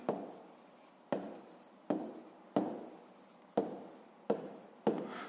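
Pen or pencil scratches on paper while numbers are written out by hand for a fifth-grade math exercise, about seven short strokes or figures in a steady rhythm, each a crisp close scrape that fades quickly, with no talk.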